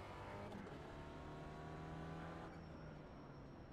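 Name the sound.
race car approaching in a sim racing video game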